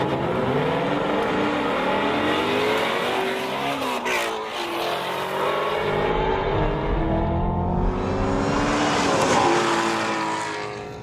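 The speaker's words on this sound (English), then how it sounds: "Drag race, go!" A Chevrolet Camaro ZL1 and a Ford Mustang GT350 drag racing, loud engines climbing through rising gear pulls with a brief dip at a shift, then surging again as the cars roar past close by.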